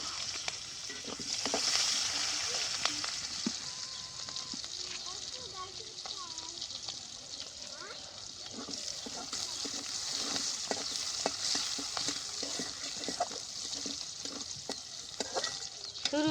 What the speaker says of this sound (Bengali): পেঁয়াজ আর কাঁচামরিচ দিয়ে দেবো।